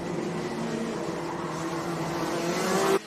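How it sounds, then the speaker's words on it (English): Racing kart engines at a kart race at Fulbeck drone steadily and fairly close, a continuous buzzing note that builds slightly before cutting off abruptly near the end. "Your engine note is swamped by another engine note, and Vogt is bringing that gap down."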